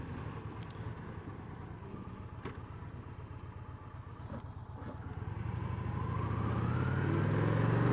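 A motorcycle on a cold, salt- and gravel-strewn road runs through an S-curve, its engine a steady rumbling pulse heard from on board that swells gradually louder toward the end, with wind noise underneath.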